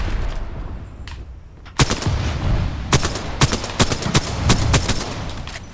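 Mastiff shotgun firing in Apex Legends: several heavy, booming blasts spaced about a second apart, loud and close over a dense game soundscape, with no voice.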